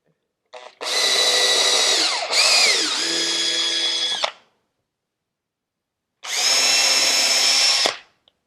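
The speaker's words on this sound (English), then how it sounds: "With my pilot holes drilled" A power drill boring pilot holes in wood, two bursts of high whining motor, the first about three and a half seconds long with a pitch dip midway, then a shorter second run after a silent pause.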